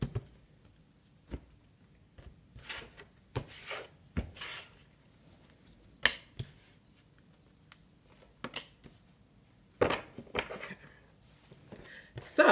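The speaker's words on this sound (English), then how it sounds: "Last shuffle." Tarot cards shuffled by hand in a quiet room, giving scattered brief riffling and rubbing bursts with sharp slaps between pauses, fairly close and moderately soft.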